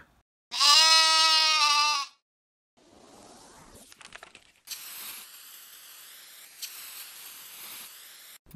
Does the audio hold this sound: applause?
no